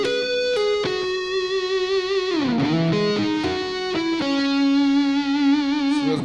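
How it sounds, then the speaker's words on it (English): An electric guitar with heavy distortion plays sustained notes and bends, a buzzy, saturated tone ringing continuously with no talking. "Let me fire up my distortion real quick"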